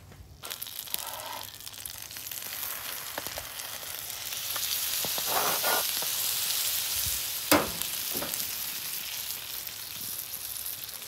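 A Cuban sandwich fries on a flat griddle with a steady sizzle, joined by scraping and crackling as it is pressed and handled, one sharper scrape standing out near the end.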